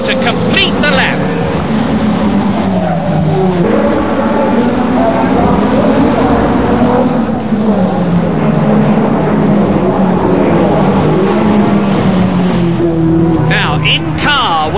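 Ford Sierra Cosworth RS500 touring car racing in the British Touring Car Championship, engine roaring loud and close with shifting pitch through gear changes while a commentator speaks over it.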